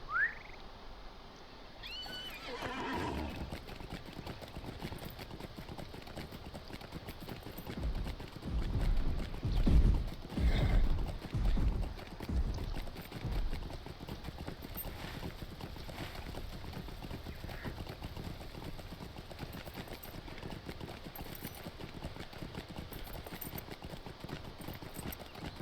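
Horse in the video game LOTRO, hooves clip-clopping in a loud rhythmic burst partway through over a steady ambient game background, with no clear neigh standing out.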